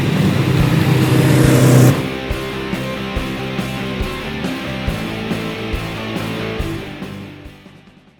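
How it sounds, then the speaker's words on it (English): A 1966 VW Beetle convertible being driven: a loud air-cooled engine drone and road rush that drops off, then a quieter stretch of rhythmic thumps and rattles as the car rolls along, fading toward the end. "And here's the video of Dale driving his car"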